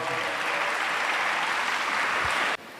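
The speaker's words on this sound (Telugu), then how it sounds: "గట్టిగా చప్పట్లు కొడదాం." A church congregation claps loudly in a steady, dense burst of applause that fills the room and then cuts off abruptly near the end.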